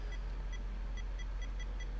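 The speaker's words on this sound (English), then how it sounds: "you're just gonna hear a beep for a second" An R2-D2 droid toy gives off short, faint electronic beeps in a quick, regular pattern over a steady low hum, with no one talking.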